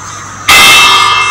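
A single loud bell strike rings out in a video game village, sudden and bright, with a shimmering metallic tone that sustains and slowly decays.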